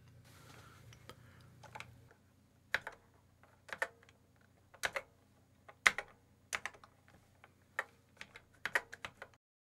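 Number keys 1 to 6 on a Yamaha CX5m computer keyboard are pressed one at a time while it edits a Yamaha DX7, giving about a dozen quiet, crisp clicks at an uneven pace over faint background hum.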